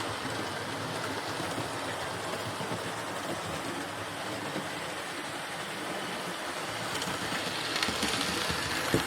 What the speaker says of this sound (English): this locomotive runs as smooth as silk